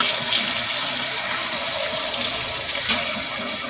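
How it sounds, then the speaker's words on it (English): Water runs steadily into a basin used for rinsing handspun yarn with fibre rinse, a continuous close splashing pour with no speech. "I'm going to go ahead and add more water to this"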